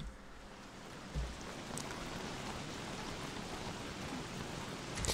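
Super heavy rain pours in the video game Don't Starve: Reign of Giants during winter, a dense, continuous hiss of rainfall that stays steady throughout, with a soft thud near the start.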